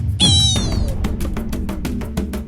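A cartoon cat meows once as an animal sound in a children's game: a loud, bright, wavering cry, followed by a steady run of quick popping clicks.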